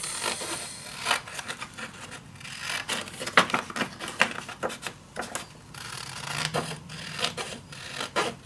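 Scissors snipping through patterned Ciao Bella craft paper for a travel suitcase project, a close, steady run of short rasping cuts with irregular pauses and no talking.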